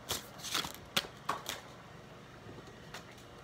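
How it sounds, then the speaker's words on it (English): A new tarot deck is shuffled by hand in a handful of quick, close riffling bursts that fade into a quieter pause. "Right now, I'm shuffling the tarot of the Orisha deck, new deck that I got"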